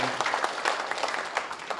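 An audience at a Korean council member's talk event claps steadily for the host in a short burst of dense, continuous applause.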